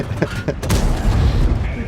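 Heavy tank cannon blasts from a Super Conqueror tank in a video game, a few sharp shots followed by rumbling reverberation.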